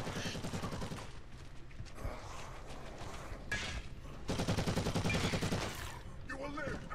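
Rapid automatic gunfire and explosive bursts in the online multiplayer shooter Warhammer 40,000: Eternal Crusade, dense and continuous, with voices calling out in the middle of the fighting.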